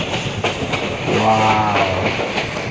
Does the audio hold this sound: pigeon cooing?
no